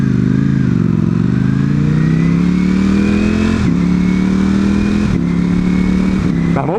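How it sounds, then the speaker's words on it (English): A fast moped accelerates past on a city street, its engine note climbing steadily in pitch with a couple of brief gear-change dips, loud and close throughout. "That moped be fast."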